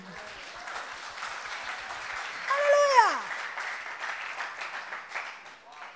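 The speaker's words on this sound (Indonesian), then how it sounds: "Tepuk tangan." A church congregation applauds during a sermon in a steady clapping wash, while a voice calls out loudly in the middle and then lets the clapping carry on.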